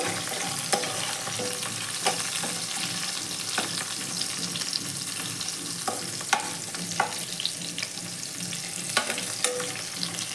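Ghee frying in a pan while Hyderabad-style dal sambar is cooked, a steady close sizzle with scattered crackles and small stirring knocks throughout, no talking.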